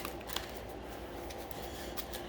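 A deck of cards is riffle-shuffled close by, a quick rustling flutter with soft snaps, no talking.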